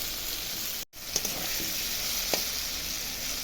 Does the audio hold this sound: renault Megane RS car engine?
no